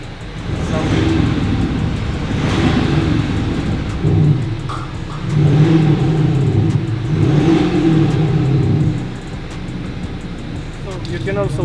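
A Mercedes C Class diesel fitted with a Maxhaust sound generator set to a V-engine tone revs in a few swelling bursts, a deep, rumbling synthetic exhaust note rising and falling between them.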